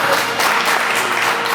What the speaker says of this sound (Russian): Эти аплодисменты сейчас прозвучали в вашу честь